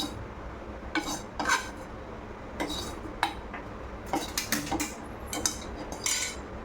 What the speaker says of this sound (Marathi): हे भाजलेलं पीठ आपण एका डिशमध्ये किंवा आपली जी वाटी होती त्याच वाटीमध्ये आपण हे काढून घेणार